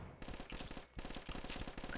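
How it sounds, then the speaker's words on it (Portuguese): Rapid gunfire in the online shooter Point Blank, a dense burst of repeated shots in quick succession filling the whole short moment, fairly close and with no talk over it. "Ai, meu Deus do céu, é muito tiro."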